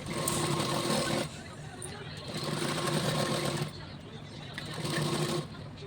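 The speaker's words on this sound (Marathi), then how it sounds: "आपण इथे दाब शिलाई अस्तरच्या साईडने टाकून घेत आहोत" A sewing machine runs stitching blouse lining in steady, fast bursts of whirring needle chatter, pausing briefly between runs, with a voice faintly underneath.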